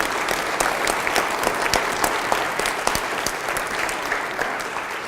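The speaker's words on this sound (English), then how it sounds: "they deserve a round of applause" A town hall meeting audience in a church community claps for the team behind a new-building presentation. The applause is loud and continuous, a dense patter of many hands that stays steady from start to finish.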